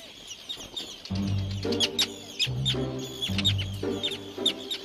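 Terns settling on a river island in Scotland give a busy chorus of sharp, repeated calls, with lower clucking notes pulsing underneath and no voices.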